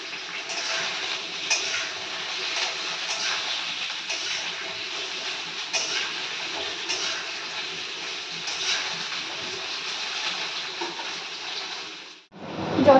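Mixed vegetables, with eggplant still to come, fry in a pan for a nine-jewel dish, giving a steady, close sizzle that runs unbroken for most of the stretch before a brief clatter near the end.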